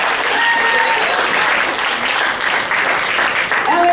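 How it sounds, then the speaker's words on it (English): A crowd at a stage hypnosis show applauds, with dense, sustained clapping from many hands that holds loud and steady for about four seconds, along with faint background voices. "Give them all a huge round of applause."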